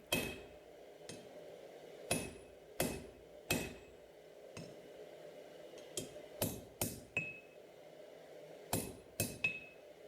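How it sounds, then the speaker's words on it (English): A 32-ounce hammer forging the tip of a knife blade, sharp ringing metallic strikes landing singly and in quick clusters of two or three, close and clear with quiet gaps between. "Now I'm forging the tip in, just using my 32-ounce hammer again"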